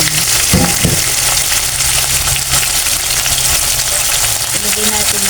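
Squid frying in a pan for adobong pusit, a loud steady sizzle with bursts of stirring clatter near the start, close and continuous, with a brief voice in the background.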